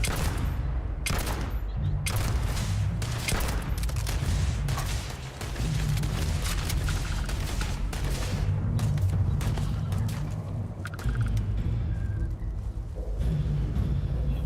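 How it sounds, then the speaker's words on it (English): Sustained gunfire in the sci-fi video game Starfield, dense overlapping bursts and booms that stay loud and close for the whole stretch, with only a brief dip midway. "What the hell are you firing at?"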